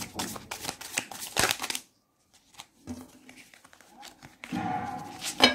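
A deck of tarot cards being shuffled, with quick riffling and tapping bursts separated by a short silence, fairly close, with faint speech mixed in.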